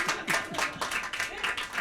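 Applause from a live audience at a music talk show on an outdoor stage, a short burst of scattered clapping close by and fairly loud, with a voice briefly over it.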